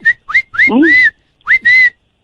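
A person whistles over a phone call on a radio prank show, giving a few short rising chirps followed by longer sliding tones in a quick, close, clear sequence with brief gaps.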